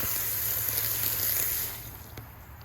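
Water poured into peat moss seed-starting mix gives a steady close gushing wash that drops off and thins out near the end.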